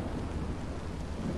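Rain and thunder in Minecraft Story Mode, a steady dense hiss of rainfall with a low rumbling underneath, moderately quiet and continuous, with no talking.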